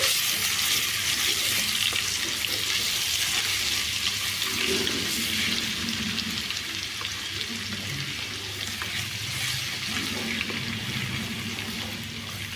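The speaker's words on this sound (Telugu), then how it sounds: "ఇప్పుడు దీంట్లో ఒక పెద్ద టీ స్పూను అల్లం వెల్లుల్లి పేస్ట్ అయితే వేసుకుంటున్నాను ఇది కొంచెం పచ్చివాసన పోయే వరకు ఫ్రై చేసుకోవాలి" Ginger garlic paste frying in oil in a pan for mutton pickle, giving a steady broadband sizzle with faint stirring clatter throughout, fairly loud and continuous with no speech.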